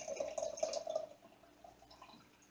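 Potato cooking water being poured off into a container, a soft trickling splash for about a second that fades to faint drips, quiet and close.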